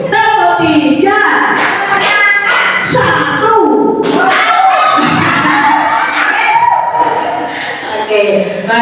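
A group of people doing a rhythmic clapping game in a classroom training session, with bursts of claps, chatter, laughter and cheering from the crowd.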